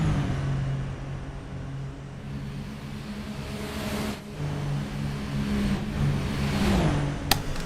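Super Formula Light race cars running at speed at Road America, with a steady engine whine that holds and shifts in pitch as cars pass, plus a brief sharp click near the end.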